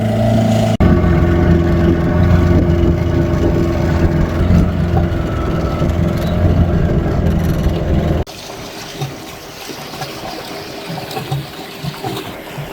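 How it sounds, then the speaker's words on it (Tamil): A fishing boat at sea runs slowly on a single engine, giving a steady, loud, close drone mixed with rushing water that continues without pause and then shifts to a lighter wash of sea noise. "ஒரு இன்ஜினை போட்டு தான் இந்த போட்டில் ஓடிட்டு இருக்கேன்."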